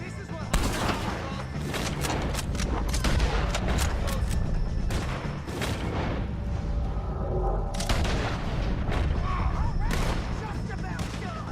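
Repeated gunfire from a shootout against O'Driscoll gang members in a Western video game, sharp shots and bursts cracking throughout with shouted voices mixed in.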